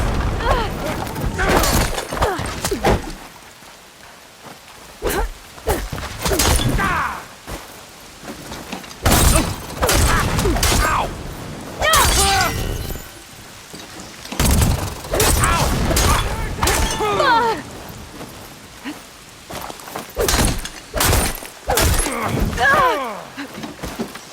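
Rapid bursts of gunfire and explosions fill a Horizon Forbidden West battle, loud and close, coming in dense clusters with short lulls, and a voice speaks through the action.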